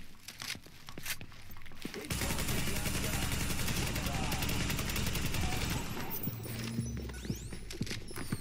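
Automated turret in The Division opening up in a sustained, dense burst of rapid gunfire that runs for several seconds and then tapers, with scattered shots before and after.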